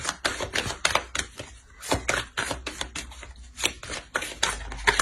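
Tarot cards drawn from a deck and laid out on a surface, with crisp repeated slaps and shuffling rustles in an irregular rhythm, close by and with no talking.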